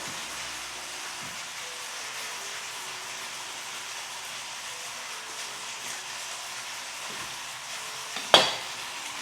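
Tofu fries in a pan on the stove, a steady close sizzle and hiss that runs throughout with no talk, broken near the end by a single sharp clatter.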